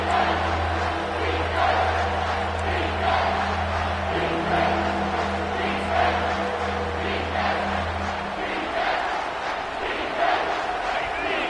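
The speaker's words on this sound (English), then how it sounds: "Third down, and this crowd will blow out a vocal cord to help this defense." A packed college football stadium roars in a sustained, loud wall of crowd noise on a third-down defensive play, with chanting voices swelling steadily under a low continuous drone for about twelve seconds.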